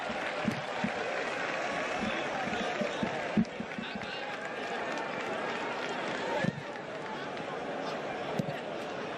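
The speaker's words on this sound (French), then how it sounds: "ça fait plaisir au public qui applaudit le geste" A stadium crowd applauds during a football match between Senegal and the Republic of Congo at the Francophonie Games in Kinshasa. A steady, moderate wash of clapping and crowd noise continues throughout under a commentator's talk, with a few sharper thumps.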